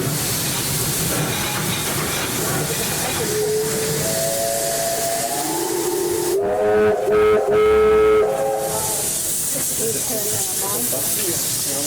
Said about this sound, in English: It must have the whistle first.